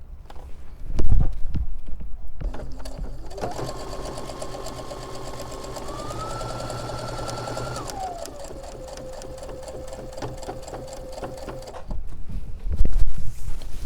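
A sewing machine running a regular straight stitch through quilt fabric, a steady mechanical whir with a rising and falling motor pitch over about ten seconds, bracketed by handling clicks and thumps at the start and end.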